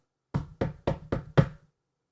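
Five firm knocks on the door of a room, evenly spaced and close, each sharp and solid, then silence.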